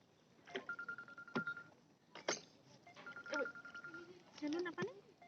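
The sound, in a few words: phone call being dialed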